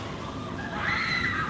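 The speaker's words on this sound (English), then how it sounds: "You can hear them screaming." Riders on a theme park ride at Disney's Hollywood Studios scream in the distance, a faint rising wail that swells for under a second above a steady background murmur.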